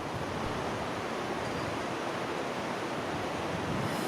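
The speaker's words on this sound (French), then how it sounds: "Alors là c'est la cascade principale" Main waterfall of the Cirque de Gavarnie, a 400 m high cascade in the Hautes-Pyrénées, roars as a steady, dense wash of white noise that fills the whole clip with no pauses.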